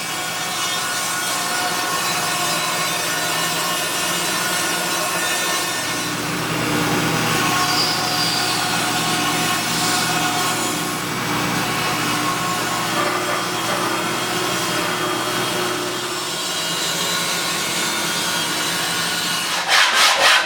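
Bandsaw ripping through walnut, a steady, loud rasping cut with motor whine that runs continuously and close up, easing slightly in the middle and swelling again near the end.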